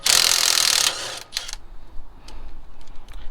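Pneumatic impact gun spinning off the sway bar end link nut on a Toyota Tundra, one loud buzzing burst of about a second, then a few short rattling clicks over quiet garage background.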